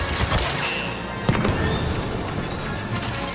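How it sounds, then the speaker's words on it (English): Droid blaster fire in a Star Wars video game: a dense, crackling barrage of sharp energy shots and bursts, with one louder blast near the middle, continuous and close, with no talk. "That was a droid gun. I don't like that sound."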